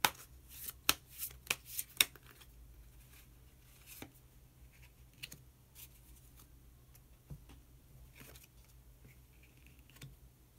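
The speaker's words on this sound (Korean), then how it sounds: "그러면 마지막으로 히든 카드 한 장 더 뽑아보도록 하겠습니다." Tarot cards are shuffled and handled close by: a quick series of crisp riffling snaps at the start, then scattered soft flicks and taps in a quiet room.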